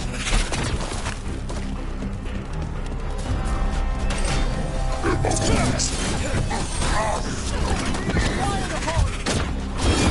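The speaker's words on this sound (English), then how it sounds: "Watch yourself. They have Gatlock cannons." Gatlock cannons in the PS5 game Dragon Age The Veilguard, heard as dense, continuous mechanical clattering and rapid booming gunfire, with crashes throughout and game voices mixed in.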